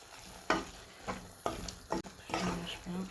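A cowpea dish, ndambé, cooking in a pot as it gets stirred, with several scraping, wet stirring strokes over a low simmering sizzle, close and fairly quiet.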